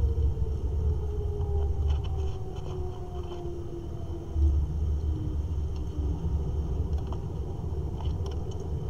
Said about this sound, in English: Alright, it's a tornado.